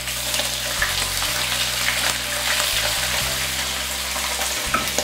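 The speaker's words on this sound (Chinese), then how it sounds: "鱼倒进锅内的时候先不要去动它，煎定型以后再反个面煎一下" Pomfret fish pan-frying in oil in a wok, a dense steady close sizzle with a low hum underneath.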